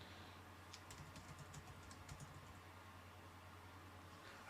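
Computer keyboard typed on right beside the microphone gives a run of soft, rapid key clicks and taps in irregular bursts over a steady hiss, quiet and close.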